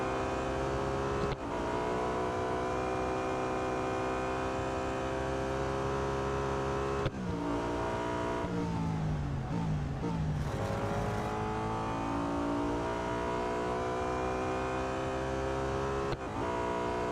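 BMW M3 GTR racing car engine in the Real Racing 3 mobile game, a steady, loud, close engine drone with a strong harmonic whine that shifts pitch through gear changes and revs, running alone.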